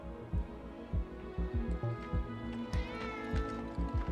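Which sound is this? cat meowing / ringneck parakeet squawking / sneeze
cat meowing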